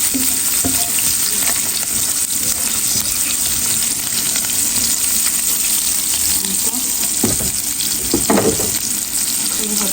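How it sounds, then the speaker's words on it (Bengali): Shrimp and garlic fry in a pan as a base for water spinach, making a loud, constant sizzle broken by a few scraping stirs and clinks near the end. "আমি রসুন দিয়া চিংড়ি মাছ দেওয়া হচ্ছে, এটাকে শাককে বাগার দেবো এখন। তো এটাও একটু ভাজা ভাজা করে নেব"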